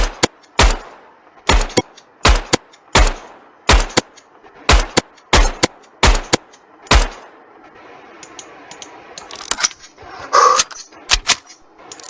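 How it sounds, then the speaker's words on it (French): Gunfire in a Minecraft horror mod game: about eleven loud, sharp shots spaced roughly half a second to a second apart, followed by quieter scattered game noises and a few fainter pops. "Et je vais lui mettre toutes mes balles"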